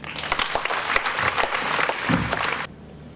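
Warm applause from an audience at a literary book-marathon event in Conakry fills the room with dense, steady clapping, then cuts off abruptly near the end, leaving quiet.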